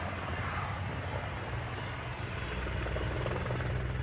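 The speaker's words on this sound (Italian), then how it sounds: "il grande elicottero ha fatto la spola con la struttura e sorvolato a bassa quota la zona di San Vito" A large helicopter flies low over the San Vito area during wildfire firefighting, its heavy rotor thump and engine roar loud and continuous throughout, with no voices.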